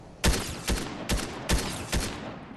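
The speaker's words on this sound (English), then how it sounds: "I'm gonna shoot." Video game gunfire rings out as five loud, evenly spaced shots about every half second, each a sharp crack with a short ringing tail, close and alone with no talk.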